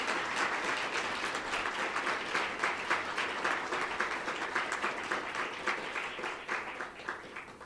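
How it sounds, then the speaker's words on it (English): A keynote audience at the 2017 SME Symposium breaks into sustained applause, dense and even clapping that holds steady for several seconds before slowly thinning out. "I'd like everybody to give another round of applause to our speaker today."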